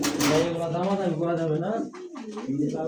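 Cream bar highflyer pigeons coo in low, rolling phrases close by, with people talking over them throughout.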